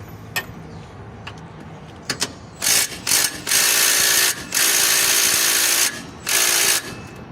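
An impact wrench loosens a front strut bolt on a 2006 Acura TL, starting with a few short clicks and taps, then firing in loud rattling bursts with brief pauses between them.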